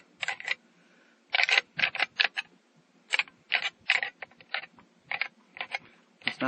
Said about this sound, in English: You could randomly stab holes in there